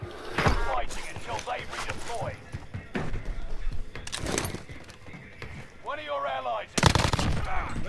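Gunfire in Call of Duty Warzone on Rebirth Island, with sharp bursts and rapid shots mixed with game sounds, while voices talk over it throughout.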